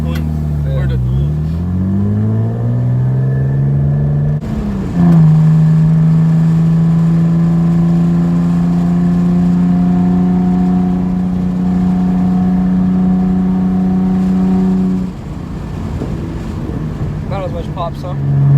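Nissan 300ZX with a straight pipe exhaust revs up and drops back, then holds a steady, loud droning engine note for about ten seconds before settling to a rougher idle, close to the microphone.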